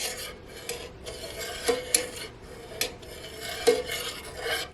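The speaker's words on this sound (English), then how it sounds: "I do like to just stir it every so often to make sure nothing is sticking to the bottom." A spoon scrapes and stirs milk in a metal pot heating for yogurt, producing close rhythmic rasping strokes with occasional sharp clinks against the pot's bottom and sides.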